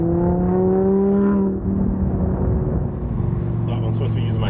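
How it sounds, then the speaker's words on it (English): An Audi R8 engine, rebuilt from a salvage-auction wreck, hums steadily and then drops in pitch as it downshifts, settling into a lower rumbling drone; close and moderately loud, with speech over it. "I would just be downshifting this back and forth."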